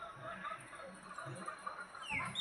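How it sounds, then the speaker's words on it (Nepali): Chickens in a coop cluck softly at close range against a steady outdoor background, with a brief sharper call near the end. "यहाँ चाहिँ कुखुरा रहेछ"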